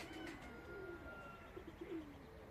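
Soft, low coos from Zagłębie Tippler pigeons repeat a few times against a quiet outdoor background, gentle and fairly close.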